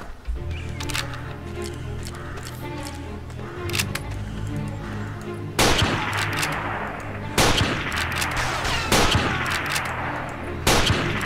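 Sniper rifle shots ring out in the video game Sniper: Art of Victory: about five sharp, loud cracks at irregular intervals over a steady low in-game hum.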